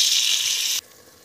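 Water pours steadily into a pan of pea, potato and carrot curry with a bright, hissing gush that stops abruptly after under a second, leaving quiet room tone.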